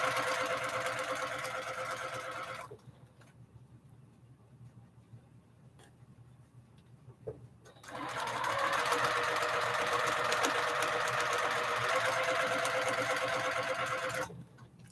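A sewing machine stitches quilt pieces for flying geese blocks, a loud, steady, close whirring run that stops for about five seconds and then starts again for a longer stretch.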